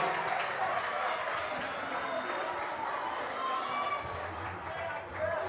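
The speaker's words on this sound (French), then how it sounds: "On applaudit, on applaudit, on applaudit, on applaudit," An audience applauds at a school quiz contest: a dense, continuous wash of many hands clapping, steady and moderately loud throughout with a little crowd noise mixed in.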